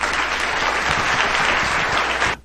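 A Spanish-language TED-style talk audience applauds speaker David Sasaki, dense steady clapping filling the hall before cutting off abruptly.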